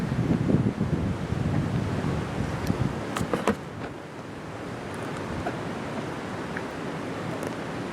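Strong headwind buffets the microphone on a disc golf hole, a loud continuous low rumble of gusts that surges and eases without pause, with no one speaking over it.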